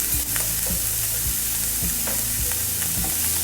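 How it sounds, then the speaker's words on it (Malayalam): Vegetables for fried rice stir-fried over high flame, a close, steady sizzle broken by rhythmic scraping and tossing strokes about twice a second, with no talking. "അപ്പോൾ ഇതൊന്ന് നമുക്ക് വഴറ്റിയെടുക്കാം."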